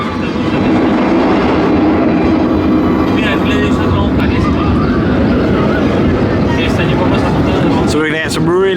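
Theme park train at PortAventura World rumbling loudly and continuously with clattering wheels and mechanical noise up close, ending in high squeals.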